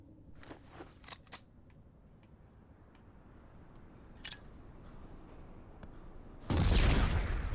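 A shotgun fires in a first-person video game set in a foundry, a single loud close blast at the end after a stretch of quieter clicks and ambient game sounds.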